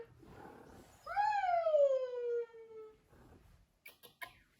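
A domestic cat meows once, a clear drawn-out mid-pitched cry lasting about two seconds, close by, with soft rustling before it and a few small clicks after; no talking.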